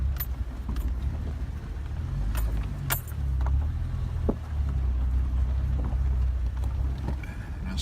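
A Jeep crawls up a rough dirt track on a hillside near Gage, New Mexico, its engine a steady low rumble under rattles, clicks and jolts from the bumpy ground.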